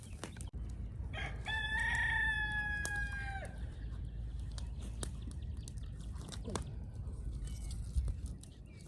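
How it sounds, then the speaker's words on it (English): A rooster crows once, long and loud, over steady background noise, followed by scattered faint clucks and rustling. "I have 3 crowing roosters."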